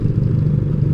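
Motorcycle engine with a carburetor problem sputtering and misfiring, a close, loud, uneven low chug with irregular pulses and no talk over it.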